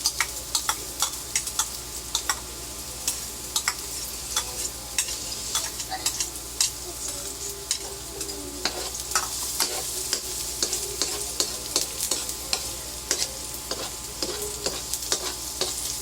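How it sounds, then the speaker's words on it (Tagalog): Onion and then garlic sautéing in a pan for Filipino ginisang ampalaya with egg, a continuous close crackling sizzle broken by frequent quick spatula clicks and scrapes against the metal, steady throughout with no voices. "Unahin po natin ang sibuyas. And then sunod po natin ang bawang. Gisa lang po natin ng maigi."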